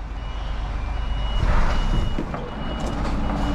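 Scania R truck reversing into a bay in Turin, Italy, its reversing alarm beeping in a steady repeated pattern over engine rumble and a hiss of air.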